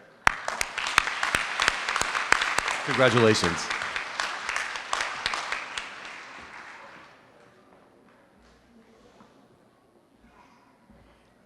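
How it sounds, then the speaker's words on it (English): Audience applause at a commencement ceremony, a loud burst of many hands clapping that swells and then fades away to near silence, with a brief spoken word of congratulations over it. "they deserve a round of applause"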